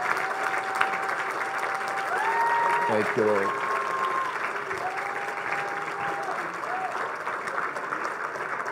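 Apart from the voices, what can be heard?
congregation applause, clap offering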